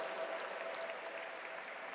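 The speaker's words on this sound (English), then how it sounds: "A huge round of applause once again" A large audience at the G20 Interfaith Summit at the World Peace Dome gives a speaker a dense, even round of applause that holds steady throughout.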